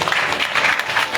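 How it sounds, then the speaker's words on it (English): Audience applause in a temple hall after a satsang session, a short, loud burst of many hands clapping together, dense and even throughout. "give yourself a big round of applause"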